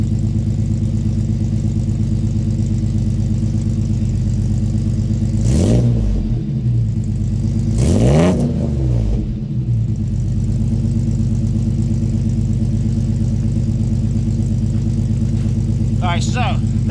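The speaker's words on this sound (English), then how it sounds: "Alright, so that's her revving up." A 1995 Toyota 4Runner, still cold and warming up, idles steadily through a MagnaFlow muffler exhaust, then revs up twice in quick succession before settling back to a loud, even idle.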